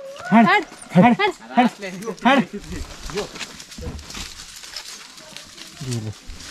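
Dogs on a mountain trail give a run of loud, close yelping barks and whimpers in the first half, then quieter whines as people talk nearby.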